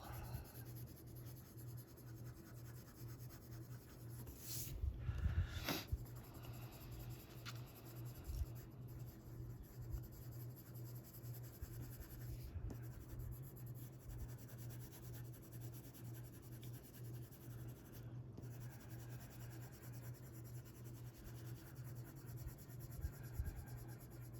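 A pencil scratches and rubs continuously on paper while a greyscale coloring page is being colored, a soft, close, steady rasp with a couple of brief sharper strokes and a low hum underneath.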